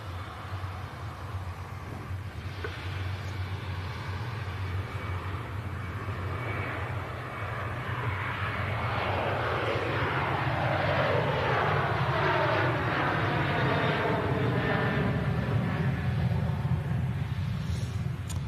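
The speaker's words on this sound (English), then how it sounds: "next departure is a Ryanair 737 heading up to Malaga. Spooling up." A Ryanair Boeing 737 departing for Malaga spools up its engines, a broad jet roar that builds and swells with a sweeping whine as it gains power at a distance.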